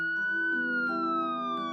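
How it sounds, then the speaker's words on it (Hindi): A police siren wails loud and close as a single sustained tone that slowly slides downward, with no voices. "उनकी सायरन की आवाज भारी हवा में गूंज रही थी।"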